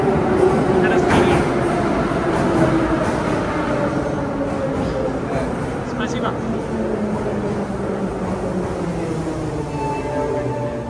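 A metro train rumbles into a station platform with a steady roar and falling whine as it slows, loud and close, with a voice talking over the noise.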